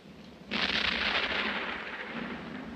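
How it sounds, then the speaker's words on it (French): A sustained distant cannonade or rolling thunder breaks in suddenly after half a second of quiet, a broad, loud roar that rumbles on and slowly fades, heard alone with no voices. "Cela ressemble plus à une canonnade."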